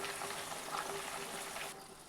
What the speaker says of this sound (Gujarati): વેફર આપણી ક્રિસ્પી થાય ત્યાં સુધી વેફરને આપણે તળી લેશું